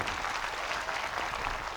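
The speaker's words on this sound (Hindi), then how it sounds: "ताली बजा दो" Audience applause at an indoor science and magic demonstration, a short burst of steady clapping from a small crowd filling the room at moderate volume.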